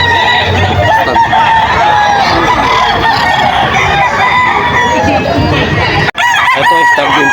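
Several chickens, including young roosters, crow and cluck loudly at a busy poultry market in Bocaue, Bulacan, with overlapping calls and a crowd murmuring behind, and a brief cut near the end.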